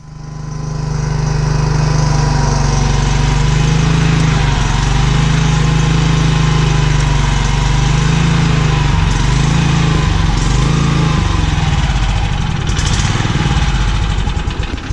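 A Toro Model 26624 lawn mower, its drive gear just repaired, runs loud and steady close by for the whole stretch, a constant engine drone with slight wavering near the end and no speech.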